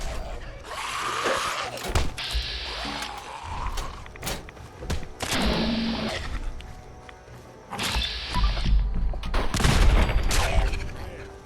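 Heavy rifle shots from an overpowered rifle in Fallout 4 Far Harbor, loud bursts at about 0, 2, 5, 8 and 10 seconds, each with a ringing tail and mechanical clatter between.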